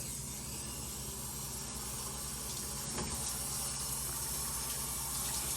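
Tap water runs steadily from a faucet while a dog is being bathed, a constant broadband rush with no pauses and no talking.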